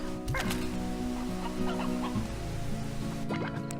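A chicken clucks in the video game Slime Rancher, short throaty clucks heard amid a dense, continuous game soundscape with sustained musical tones.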